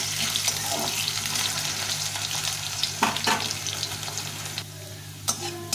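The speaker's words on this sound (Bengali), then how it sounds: "এখন আমি আলুটা ভেজে নেব লাল লাল করে" Potatoes fry in a pan of hot oil with a steady close sizzle, broken by a few sharper stirring clatters, with no voices.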